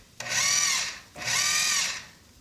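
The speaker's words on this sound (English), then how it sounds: "you just want to pulse them in the food processor and just chop them to a nice fine grind" A food processor pulses cremini mushrooms in two short whirring bursts, each a loud close motor whine that stops cleanly, with a brief gap between them.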